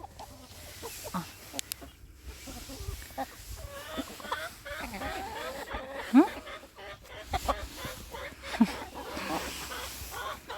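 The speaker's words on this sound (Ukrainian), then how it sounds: "отут у нас курочка теж" Backyard chickens, including Brahma and Faverolles hens, cluck and squawk at close range in a yard, with irregular calls and occasional louder notes over a quiet rural background.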